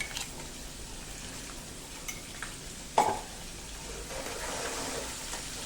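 Potato bhaji masala paste of ginger, chilli and garlic sautéing in a pan with fennel and sugar, a soft steady sizzle with a few light scrapes and one sharp clink of the spoon against the pan.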